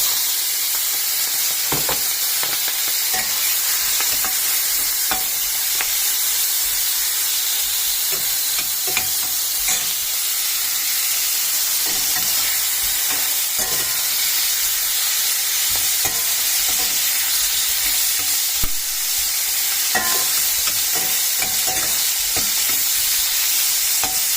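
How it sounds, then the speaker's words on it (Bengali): Prawns rubbed with salt and turmeric frying in hot oil, a loud, continuous close sizzle with scattered crackles and pops, going on without a break and with no voices. "এই যে চিংড়ি মাছটা কেটে রেখেছিলাম নুন হলুদ মাখিয়ে আর এখন এটাকে আমি ভাজবো"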